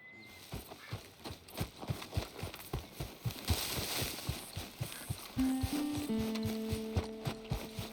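Horse hooves in Red Dead Redemption 2 clop in a steady, close rhythm, with brief mechanical tonal sounds entering near the end.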